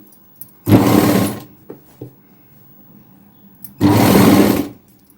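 Sewing machine stitching around frilled Punjabi dress pants, heard in two close, loud bursts of about a second each with quiet handling sounds between.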